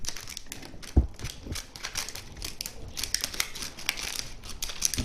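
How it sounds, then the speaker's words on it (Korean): Scissors snip through the cap of a gerbera flower, making a series of crisp, close clicks and crinkling cuts mixed with light rustling of the flower wrapping. "가위로 절반만 이렇게 잘라주세요."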